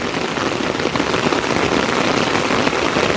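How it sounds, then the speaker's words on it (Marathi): Dense, heavy monsoon rain pours continuously at a flooded creek in Dombivli, a loud steady hiss of drops hitting surfaces with no pauses. "लय जबरदस्त जोरात पाऊस आला आहे मुसळधार पाऊस"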